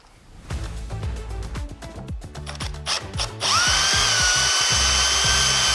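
A power drill whirs in repeated short bursts, then runs in one long steady high-pitched grind, loud and close, drilling holes in an aluminium seat.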